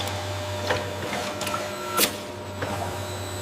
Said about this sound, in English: This is the heart of the operation, the aseptic filler.